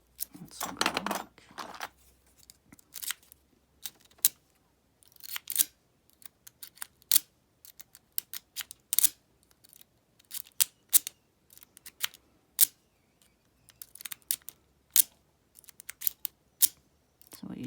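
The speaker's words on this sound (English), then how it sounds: "So what you're trying to do is bounce all those pins above the sheet line and grab them with your tension wrench before they fall back down again." Rapid metallic clicks and snaps from a pick being zipped out of an Abus 74/40 padlock, repeating in quick irregular bursts, close and crisp.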